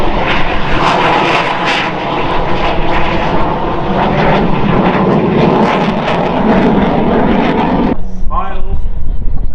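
Aircraft in flight at the Farnborough Airshow with gear extended, a loud sustained engine roar over steady broadband rushing noise that cuts off sharply near the end, leaving a fainter tone.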